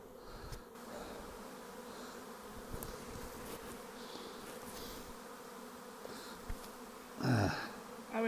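A honeybee swarm on a regenerative farm hums in a steady, close buzz, individual bees drifting past now and then, with one louder bee sweeping near the end.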